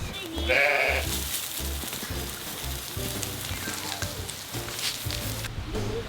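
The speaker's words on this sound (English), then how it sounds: "Put the sheep out to get their minerals." Sheep and lambs bleat close by as they are put out to mineral feed, one loud call followed by several shorter ones, over a steady patter like rain.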